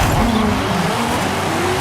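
A 1973 Nissan Skyline H/T 2000GT-R with a 1,000-horsepower drag tune in Forza Horizon 5 at full throttle, a loud, close, steady engine roar with rising pitch as it accelerates.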